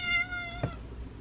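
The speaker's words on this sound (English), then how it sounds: "My cat wanna come inside." A house cat meows just outside a door, wanting to be let in: one drawn-out, tonal meow heard close and clear, with no talking over it.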